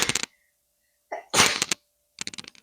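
A single sharp sneeze bursts out near the middle, set between brief bits of other noise and quiet gaps.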